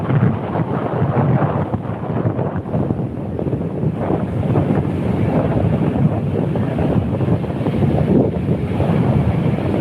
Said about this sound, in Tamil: அந்த படகு அப்படியே வந்துட்டு இருக்குது.